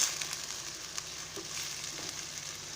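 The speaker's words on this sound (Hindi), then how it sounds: "अब ये हाफ केजी मैंने मटन लिया है, ये शामिल करूँगी और इसे अच्छी तरह से फ्राई कर लेंगे" Half a kilo of mutton fries in a pan for achari gosht, giving a steady, moderate sizzle with faint spatters, close by and with no voices.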